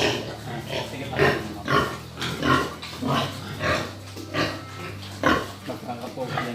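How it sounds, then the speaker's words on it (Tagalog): Pigs on a pig farm grunt and oink in repeated bursts, close and fairly loud, with livestock noise filling the pen. "Nasaya yung baboy."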